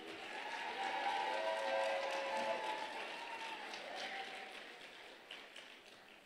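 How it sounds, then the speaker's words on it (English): A crowd at a Seattle crowning ceremony applauds the performers, a soft, steady spread of clapping heard from some distance with faint voices and cheers mixed through it. "Give them another round of applause"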